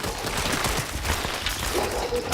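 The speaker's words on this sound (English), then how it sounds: "I can barely hear you with all the artillery hitting down" Artillery shells rain down in the Soulframe game, a dense, continuous barrage of rumbling impacts and crackling blasts with no break.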